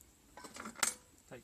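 Metal clinks and scrapes as the steel top is lifted off an OZ PIG heater outdoors, a quick cluster of light clanks with one sharper ring, close and quiet.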